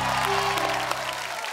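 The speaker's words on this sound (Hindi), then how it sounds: "जोरदार ताली।" Studio audience at a televised Biraha singing competition breaking into loud applause, dense clapping over a sustained musical drone that fades toward the end.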